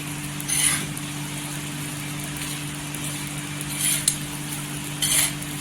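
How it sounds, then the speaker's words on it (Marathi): Green chilies roast in hot salt in a dry pan, with a few short scraping bursts of stirring over a quiet, steady background hum. "या मिरच्यांवर मीठ टाकायचं आणि छान असं मिठामध्ये भाजून घ्यायचं"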